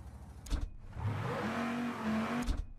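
A V12 car engine in Mafia Definitive Edition revs up hard, holds a rising droning pitch for over a second, then drops back, bracketed by short mechanical clunks at start and end.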